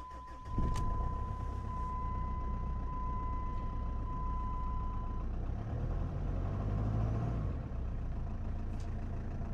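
A Jeep engine idles in a steady, low, even rumble at close range, with a thin electronic tone running through the first half.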